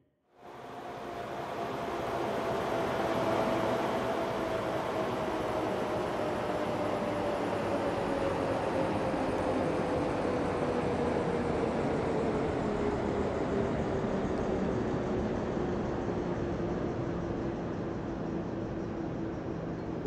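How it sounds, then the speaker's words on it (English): A train approaches in the Rail Route railway simulation game as a steady rumbling roar, with a faint tone sliding slowly downward, holding loud and unbroken for about twenty seconds. "Sounds like we've got a train approaching."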